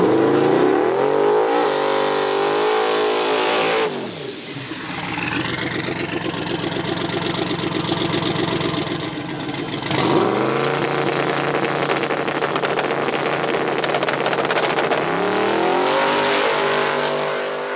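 A drag race car tears down the strip, its engine screaming loud and close, pitch sweeping upward through several gears with sharp drops at each shift, never letting up.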